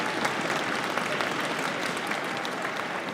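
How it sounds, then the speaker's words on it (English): Audience applause for an educator at a school strings celebration, a steady dense wash of many hands clapping alone for a few seconds at moderate level. "yes, round of applause for Ms. Jean Lee."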